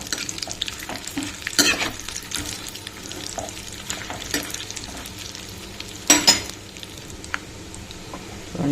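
Cashews and almonds fry in a pan for a homemade millet payasam, giving a soft continuous sizzle under close scraping and stirring, with a couple of sharper clatters of spoon against the pan.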